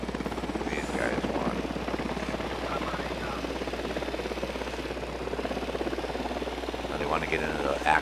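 A helicopter in Ghost Recon Wildlands thrums with a steady, rapid rotor chop and low engine drone, holding close and constant while voices speak over it.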